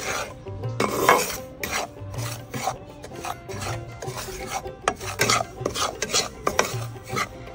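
Semolina being dry-roasted and stirred in a pan for mohonbhog, a spoon scraping and rasping steadily across the metal in an uneven repeating rhythm, close and fairly loud with no talking.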